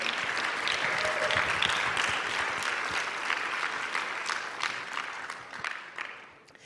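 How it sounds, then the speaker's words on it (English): Audience applause at the INNOVATE 2024 event, a dense burst of many hands clapping that holds steady for several seconds, then thins out and fades near the end. "let's give them a round of applause for being here today"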